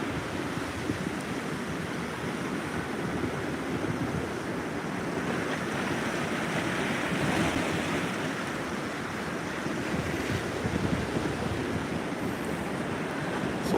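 Ocean waves and surf crash at a coastal inlet during a coastal flood warning from Hurricane Erin, a constant broad roar of breaking water mixed with steady wind buffeting the microphone.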